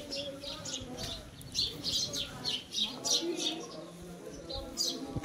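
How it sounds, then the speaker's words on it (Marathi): Birds chirp in repeated short bursts at a temple, mid-distance, with speech faintly present under the calls. "पक्ष्यांचा किलबिलाट भरपूर आहे"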